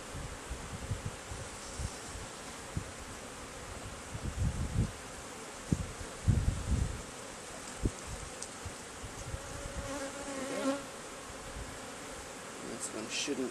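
Honeybees buzz around an open hive as a beekeeper works the frames, a faint soft drone with scattered louder buzzes and light rustling knocks, no talk heard.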